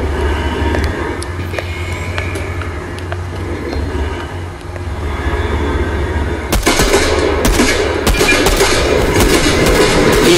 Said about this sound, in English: He's driving a tank.